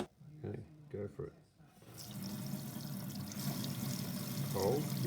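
Water running from a tap through a colour-changing temperature-indicator faucet attachment, a steady rushing stream that starts after a brief lull and continues loud and even, following talk at the start.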